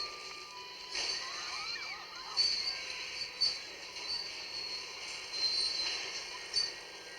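A train slows to a stop with high, thin wheel squeals drifting over a steady rumble, the squeal rising in a few brief bursts and settling again, moderately loud and without voices.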